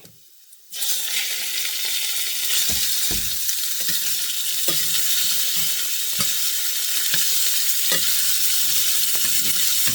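Pork and garlic stir-fry with onion in a pan, starting with a sudden loud sizzle that holds steady while a spatula scrapes and stirs at regular intervals.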